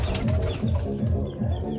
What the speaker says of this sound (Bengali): তো এখানে অনেক ধরনের কবুতর আছে